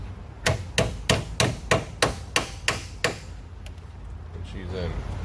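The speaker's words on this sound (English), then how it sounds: "You may want to grab a little tool to hammer that in" Eight sharp metallic hammer taps from a small hammer driving in a pin during an intake install on a 2018-20 Jeep Trackhawk, in a steady rhythm, close by, then a short pause and a few faint handling noises.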